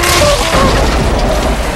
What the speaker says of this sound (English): There was a big explosion.